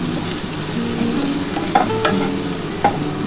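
Okra frying in a pan as a little water goes in: a loud, busy sizzle with scraping stirs and a couple of sharp utensil knocks against the pan.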